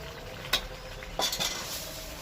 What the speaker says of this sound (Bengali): ভালো করে কষাতে হবে চিকেনটাকে